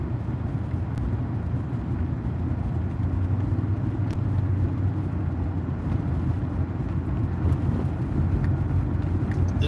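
A light truck passes on a road outdoors, a steady, loud engine and tire rumble that holds throughout with no speech over it.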